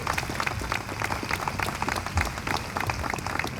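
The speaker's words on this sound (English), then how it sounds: "Let's give them a round of applause as well." An audience at a September 11 day of service and remembrance ceremony claps in a short, lively burst of applause, many hands close and busy at an even level throughout.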